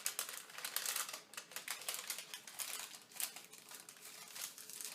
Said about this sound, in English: fold a rabbit here on these 3 crease lines. So fold them together like this.